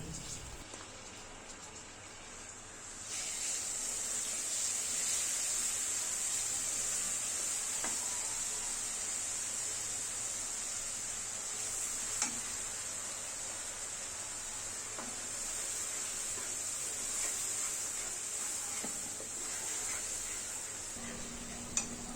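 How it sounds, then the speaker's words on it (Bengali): Garlic paste frying in hot mustard oil for a green chilli pickle, giving a loud, even hiss that swells after a few seconds and holds steady, with a few faint scrapes and no talking. "সরষের তেলটা গরম করে আচারের মধ্যে ঢেলে দেব এই জন্য প্রথমে অল্প অল্প নিলাম এখন হলো রসুন বাটা দিচ্ছি"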